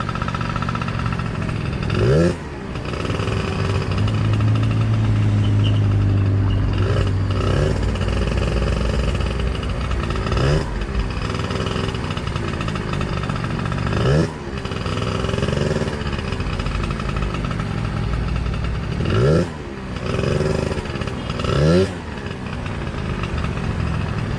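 A 1988 Honda Tact scooter's small engine idles loudly and close, with repeated blips of revving every few seconds throughout the long stretch and no speech.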